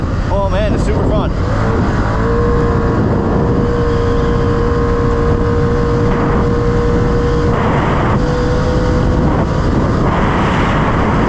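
A 2025 Can-Am XMR 1000 off-road vehicle drones steadily and loudly at close range, its engine holding a sustained pitch with a brief rev early on while a voice talks over it.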